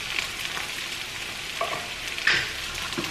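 Onion browning in a pan gives a soft, continuous sizzle with a couple of faint utensil scrapes, close and moderate, without any voices.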